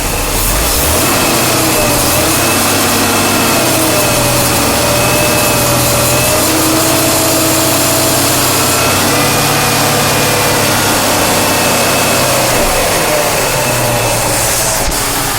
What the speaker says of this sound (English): Listen how good it idles.